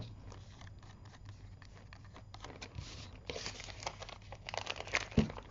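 Scissors snipping off the extra ribbon tails while making a craft weekly planner, a close series of crisp cuts and paper crinkles that grow louder and busier toward the end, no talking.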